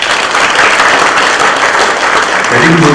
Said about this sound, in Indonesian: Tepuk tangan untuk Pancasila.